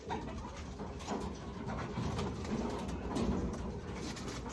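Racing pigeons coo softly at a loft during a derby race arrival, low murmuring calls spread over a steady, noisy background with no clear pauses.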